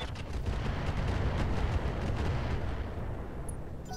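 A mech in Roguetech fires incendiary weapons, a dense burst of booming, crackling discharges that roll together into a loud sustained rumble and then taper off.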